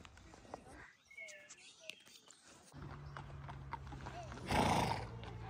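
Horses walk along a hiking path between Eschenbach and Rapperswil, their hooves making faint, irregular clip-clops. Wind and outdoor ambience sit underneath, with a brief louder rush near the end.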